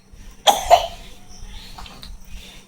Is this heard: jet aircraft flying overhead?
no